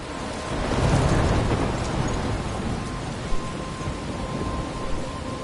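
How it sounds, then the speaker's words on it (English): Thunder and heavy rain fill a storm in the video game Life is Strange, a dense hissing downpour with a deep rolling thunder swell near the start and scattered sharp drops. "I'm trapped in a storm?"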